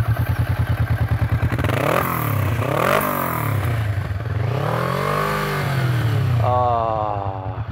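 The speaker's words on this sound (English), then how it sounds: "the initial flick of the throttle there, there's a very big sort of boom that comes through." A 2018 Kawasaki Vulcan S motorcycle fitted with a new exhaust idles with a loud, fast, even thump, then revs up and down several times in deep booming swells, close and dominant throughout.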